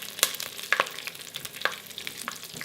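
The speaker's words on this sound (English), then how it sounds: "1 piece of lemongrass that I have sliced and bruised in the pot, and give that a stir." A spoon stirs sliced, bruised lemongrass and curry leaves in a pot for a curry, giving a few sharp scraping clinks over soft sizzling, close by and without talk.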